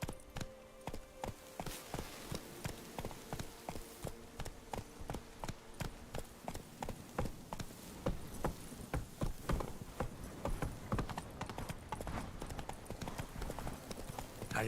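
Hooves of Roach, the horse in The Witcher 3 video game, clip-clop in a steady rapid galloping rhythm, loud and close throughout with no talking.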